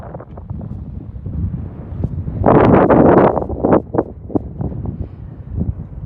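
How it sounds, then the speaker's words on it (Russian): Wind gusting through a valley in Cappadocia, rumbling buffets against the microphone that swell into a strong burst midway, then ease into fitful, weaker gusts. "Поднялся ветер."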